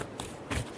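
Tarot cards being shuffled in a brief riffle, two soft papery bursts close by, quiet and with no voices.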